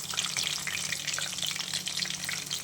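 Prawn lollipops frying in hot oil, a dense, bubbly sizzle that holds steady and loud nearby, no one speaking.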